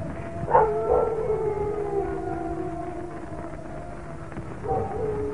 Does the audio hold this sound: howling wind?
yes